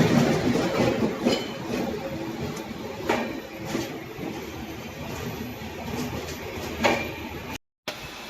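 Inside a general-class coach of a passenger train, a steady rumble of wheels on track carries on throughout, with occasional rattles and clacks rising above it and a momentary dropout near the end.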